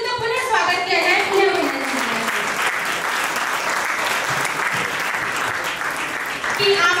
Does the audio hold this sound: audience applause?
yes